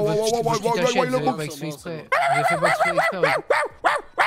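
A man imitates a dog barking during a comic roadside exchange with police, loud close yelping barks and whimpery yips in a rapid series, voiced by a human throughout.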